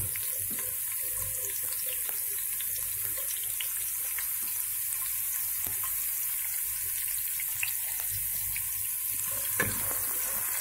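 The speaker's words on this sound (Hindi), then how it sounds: "प्याज को हम सॉटे करेंगे।" Onions sautéing in a pan for aloo tahri make a soft, steady sizzle with faint crackles and occasional stirring clicks, with no talk over it.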